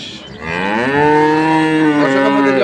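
A dairy cow bellows one long, loud moo close by at the Ambari cattle market in Dinajpur, the call rising and holding steady for over two seconds.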